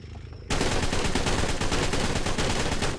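Sustained automatic gunfire in ARK: Survival Evolved, a dense, loud burst of rapid shots starting abruptly after a brief quieter moment and continuing to the end.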